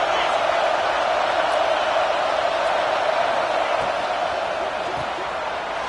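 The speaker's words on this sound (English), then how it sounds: "This crowd rising up, sensing that its defense needs some help." A football stadium crowd roars and cheers in a continuous, loud wash of noise while a commentator talks over it.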